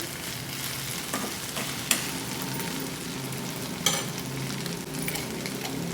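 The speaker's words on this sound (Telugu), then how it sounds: "మూత పెట్టకుండా ఇలా ఫ్రై చేసుకోవాలి బెండకాయ ముక్కలు చక్కగా వేగిపోయినాయి" Okra pieces frying in an uncovered pan, a constant sizzle with a couple of sharp clinks of stirring, close and even throughout.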